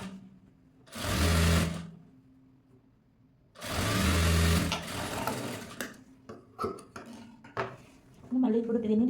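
A sewing machine stitches a piping strip onto a blouse in two bursts of fast, close whirring, each lasting about a second, followed by clicks and handling of fabric and tools, with a voice talking between bursts.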